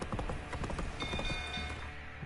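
Rapid clip-clop of horse hooves in a video game, dense and steady, with a faint high electronic tone running underneath.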